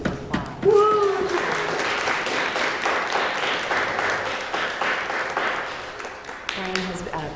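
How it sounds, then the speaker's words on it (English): Audience applause at a college event, steady clapping from a modest crowd with a brief cheer near the start, and a voice speaking at the beginning and end. "So let's give Brian a round of applause"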